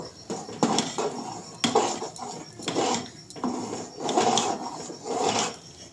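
A spoon stirs rice and lentils with turmeric and salt in a pot for vegetarian khichuri, giving uneven scraping and clattering strokes in bursts, fairly close and loud, with no talking.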